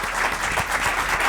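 Studio audience of a French television talk show applauding, a dense, even burst of clapping that is loud and close for about a second, with no speech over it.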